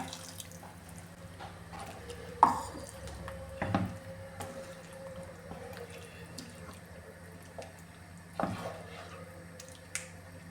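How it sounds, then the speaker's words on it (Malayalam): Hot water poured into a coconut-ground chicken curry as it cooks, a faint trickle and splash with a few sharp clicks of utensils against the pot, no voices. "ഇത് വേവാൻ ആവശ്യത്തിലുള്ള വെള്ളം കൂടെ ഒഴിച്ചു കൊടുക്കാം ഞാനിപ്പോൾ എടുത്തിരിക്കുന്നത് ചൂടുവെള്ളമാണ്"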